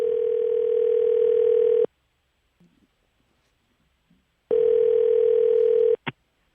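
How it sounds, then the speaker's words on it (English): A telephone dial tone sounds while a fan phone call is being placed: a steady loud tone for about two seconds, silence with faint clicks, then the tone returns for another second and a half, followed by a short click. "All right, first we'll be calling Logan."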